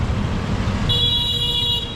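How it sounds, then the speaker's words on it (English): A car horn honks on a city street in the Philippines, a sustained bright tone that enters partway through over steady traffic rumble. "ooh, loud honk."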